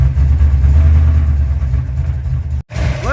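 A car engine idles on the fast idle cam before warming up, a steady, loud, close low rumble that holds for a few seconds, briefly cuts out, and resumes.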